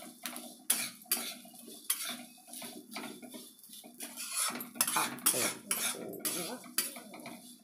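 Coriander seeds, cumin and curry leaves fry over low gas in a pan while a metal spoon stirs and scrapes them, making a busy, rhythmic clatter over a faint sizzle.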